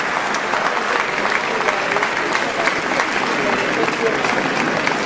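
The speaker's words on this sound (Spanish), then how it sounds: "Aplausos, por favor, para todos mis invitados, lujo de cantantes," Sustained applause from a concert audience at a live tribute show, dense and steady clapping that fills the whole five seconds at an even level with no voices on top.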